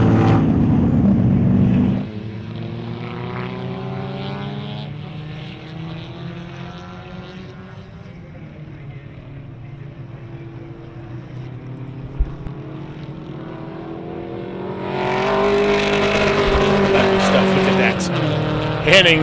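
Vintage race cars, a fastback Mustang and a Mercury among them, roar into turn 6 of a track battle, engines loud and droning with shifting pitch under steady race commentary, swelling louder near the end.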